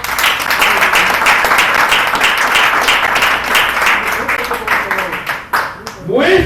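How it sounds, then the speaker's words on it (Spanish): Congregation applauding for Jesus during a Spanish-language church service, a dense, sustained wash of clapping for several seconds with voices mixed in, thinning out toward the end. "Un aplauso a Jesús."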